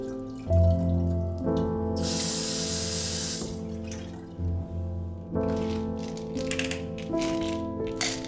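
Water runs from a Nasoni fountain faucet in a bathroom sink, a gentle steady stream that splashes and hisses in two bursts, close by, with soft musical tones underneath and no speech.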